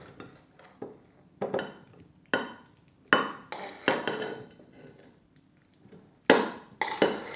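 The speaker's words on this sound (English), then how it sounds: "So let's tip all that mixture straight in the dish." Brussels sprouts and bacon mixture scraped and tipped from a pan into a dish for a Christmas side, with a run of loud metal utensil scrapes and clatters against the pan in bursts.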